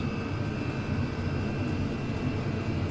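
A Chinese diesel oil heater running at full power, giving a steady, loud, unbroken roar and whine with a constant drone and no voices.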